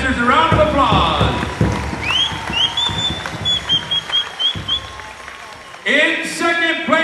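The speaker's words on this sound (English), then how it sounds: "how about giving all of our grass dancers a round of applause?" Crowd applause at a powwow honoring the grass dancers, bursting loudly at the start, thinning into scattered clapping and cheers with whistles and an announcer's voice over it, then swelling again near the end.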